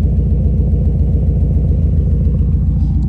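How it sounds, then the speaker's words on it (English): Subaru WRX STI idling with an Xforce exhaust and equal-length headers, a loud, close, steady low rumble with a faint burbling pulse running continuously. "it still has that nice burble at idle, as you can probably hear"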